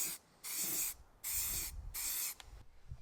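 Three steady bursts of spray paint hiss across a car wheel in a light first dusting coat, each pass lasting about half a second, with short quiet gaps between them.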